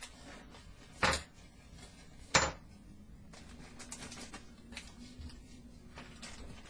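Plastic parts and small screws for a Classic Routemaster model bus kit are tipped out of their packaging. Two sharp, close clattering spills stand out above a quiet room, followed by a few fainter taps and rustles.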